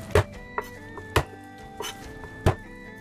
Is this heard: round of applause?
no